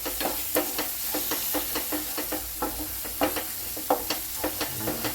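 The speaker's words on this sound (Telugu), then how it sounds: "ఈ మొత్తం ఒకసారి స్పైసెస్ అన్నీ మంచిగా ఫ్రై చేసుకోవాలి" Ground spices including garam masala and coriander powder fry in a pan, a soft sizzling hiss under repeated scraping strokes of a spoon stirring at an irregular, fairly steady rhythm.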